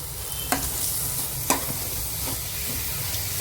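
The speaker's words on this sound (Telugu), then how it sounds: "ఇది చూసారు బాగా వేగింది, ఆ విధంగా ఫాస్ట్గా బాగా వేగుతుంది" Tomato pieces sizzle and fry in a pan while a fish curry is being made, a steady crackle broken by a few sharp clicks of stirring, close and clear, with no voices.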